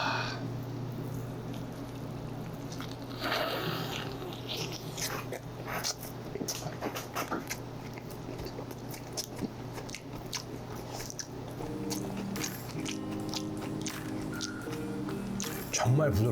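Someone bites into crispy fried chicken up close, with crunchy bites and chewing mixed with speech and background noise.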